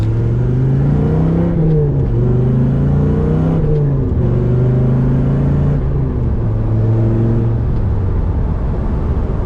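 A 1996 Dodge Viper RT/10 with a 6-speed manual, soft top and side windows up, pulls steadily under load. The rising, falling engine drone shifts through gears, loud and continuous throughout, with no talking.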